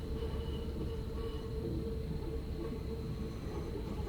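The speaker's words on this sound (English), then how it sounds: "There's that little train." A subway train on Hamburg's U3 line in the SubwaySim 2 game, a steady low rumble with faint tonal whine, constant and moderately loud without pauses.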